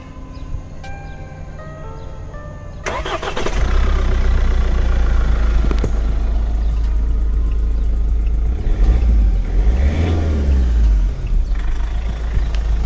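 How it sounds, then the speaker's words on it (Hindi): Mahindra Scorpio S-9 BS6 (2020) with the mHawk turbocharged diesel engine starts about three seconds in, after a few quiet tones, then idles with a loud, steady low rumble close by, with no one talking over it. "इसकी जो इंजन की साउंड है वो काफ़ी ज़बरदस्त है।"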